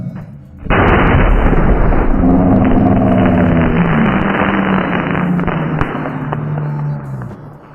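Backyard fireworks set off by a group, heard as a dense, loud run of overlapping bangs, crackles and pops that starts abruptly and continues nonstop for several seconds close to the listener.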